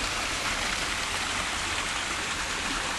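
Steady broadband rush of water from a stream under a dark forest canopy, continuous and fairly loud with no talking.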